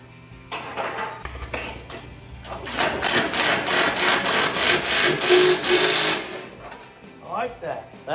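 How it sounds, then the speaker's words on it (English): A Milwaukee impact wrench runs nuts down on a 1940 Chevrolet 4WD conversion, first in short bursts and then in a sustained rattling hammer of several seconds, loud and close, with a voice speaking around it. "Got our sweet impact, Milwaukee impact wrench that we got."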